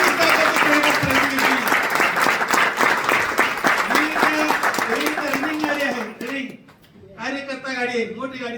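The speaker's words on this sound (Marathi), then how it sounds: "सरांसाठी एकदा जोरदार टाळ्या होऊ द्या" Loud, dense crowd applause for ITC leader Gangadhar Patil at a business gathering runs steadily for about six seconds with a voice talking over it, then thins out as the talking carries on.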